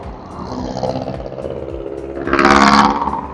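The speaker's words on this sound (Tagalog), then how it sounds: "Ang ingay ng mga sasakyan." Vehicles rush past on a road in Tagaytay, heard from a riding motorcycle. Roaring engines and tire noise swell and fade, with one louder vehicle sweeping close by near the end.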